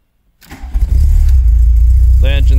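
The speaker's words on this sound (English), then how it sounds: "the engine starts." After brief silence, a VW Mk2 Golf GTI engine cranks and catches, settling into a loud, steady idle close by, with a short voice near the end.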